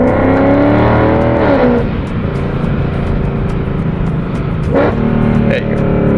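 A Mercedes W204 C63 engine runs close and loud with a deep, rumbling idle, punctuated by two sharp revs that swell and fall back, a few seconds apart.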